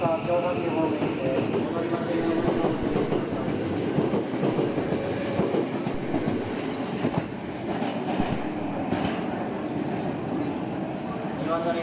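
A JR commuter train bound for Osaka and Kyobashi pulls into platform 2 at Nishikujo station on the Osaka Loop Line, a loud rumbling roll of wheels with clattering and hiss, close by, while a platform announcement plays over it.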